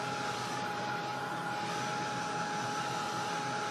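A hair dryer blows steadily on a grungy textured pigment-ink background, worked from the back of the sheet: a loud, even, continuous whooshing hum close by with no pauses.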